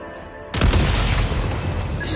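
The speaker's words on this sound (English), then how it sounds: "Shoot the explosives to detonate them and clear the path." Explosives detonate in the video game Genshin Impact: a sudden loud boom bursts in after a quiet half second, then rumbles and crackles on through the rest of the moment without voices.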